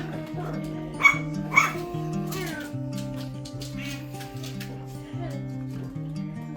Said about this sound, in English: And I have a bunch of puppies here by my feet playing.